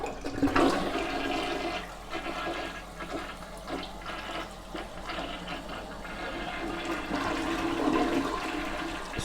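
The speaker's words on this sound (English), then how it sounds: "Let's give this toilet a flush." A toilet that was just unclogged with a plunger flushes with a loud rushing gush of water, then keeps swirling and draining steadily as the bowl refills.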